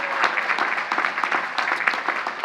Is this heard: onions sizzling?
no